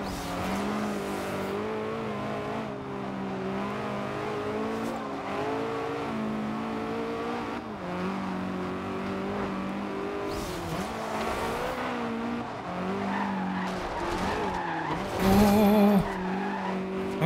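Car engine in the Forza Horizon 2 racing video game, a hot hatch driving with steady revving and tire noise, ending in a brief loud skid near the end.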